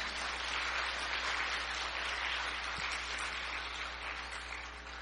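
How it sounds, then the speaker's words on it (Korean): Audience applause for a performance team at the closing ceremony of a peace forum, a steady dense wash of clapping throughout, fairly even and sustained without voices. "여러분 다시 한번 공연팀에게 큰 박수 부탁드리겠습니다"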